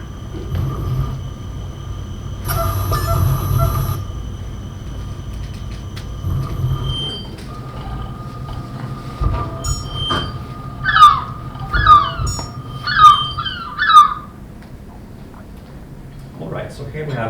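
A played-back recording combines electronic music with seagull calls, mixing sustained synthetic tones and pitched glides with a short run of rising, squawking gull-like cries near the middle, all clear and close.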